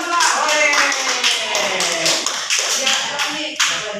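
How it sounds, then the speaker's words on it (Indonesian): A school class claps for a presenting group during a history microteaching lesson, several hands with distinct individual claps, lively and close, alongside voices and a few scattered sharper slaps near the end. "Tepuk tangan untuk kelompok 2."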